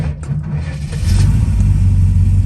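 A warmed-up 1968-69 Dodge B-body car engine cranks and starts right up, settling within a second into a loud, steady low rumble.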